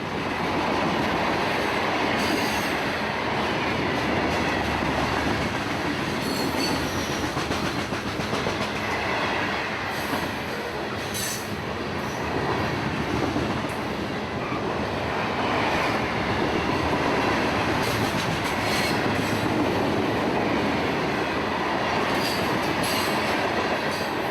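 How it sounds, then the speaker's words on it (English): A freight train hauled by diesel locomotives, standard cab Dash 8s, rumbles steadily past with rolling wheel clatter and occasional squeals, loud and continuous with no voices; an aggregate train. "came K721, an aggregate train headed for Winston. More standard cab Dash 8s."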